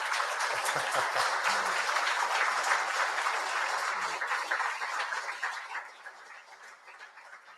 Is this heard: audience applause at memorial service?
yes